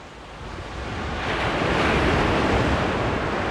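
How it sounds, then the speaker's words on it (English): Ocean waves break near the shore in a loud, steady roar of surf that swells and holds, with wind buffeting the microphone and no speech. "It's amazing to see these waves come here so close."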